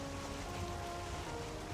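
Rain in the Valheim video game falls as a steady, dense hiss with a faint low rumble underneath, continuous and even throughout, with no voices.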